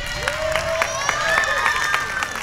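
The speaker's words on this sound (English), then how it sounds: "Can we have a clap for getting out of class today?" Students at a school Flag Day program clap and cheer, with scattered claps and whoops over a steady crowd murmur, fairly close and continuous.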